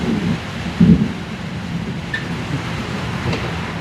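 Rain and thunderstorm outdoors, a loud continuous wash of rainfall with a deep rumble of thunder, one heavier low thump near the start.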